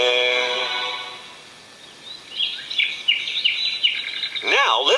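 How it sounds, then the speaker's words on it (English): Birds sing in the open, with dense high chirps and trills, fairly loud and continuous and building toward the end over a soft breathy background. "Now let's hear some more sounds from the birds."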